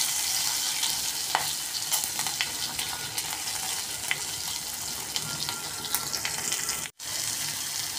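Hing, curry leaves and ginger-garlic paste sizzle hard in hot oil, a dense, continuous crackle close by with small pops, broken by a brief silent gap near the end.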